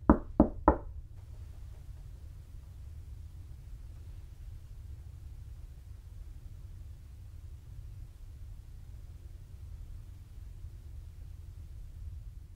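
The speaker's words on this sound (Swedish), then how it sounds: "Kan du knacka tillbaka den här väggen?" Three sharp knocks on a wall land in quick succession right at the start during a ghost hunt, followed by a long stretch of low rumbling room noise with no voices.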